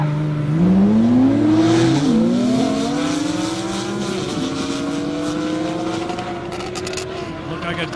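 A Nissan GTR race car launches hard down an airstrip at a half-mile speed event, its engine roaring loud and close and then climbing through the gears in a long rising pitch, with a crowd murmuring faintly behind it.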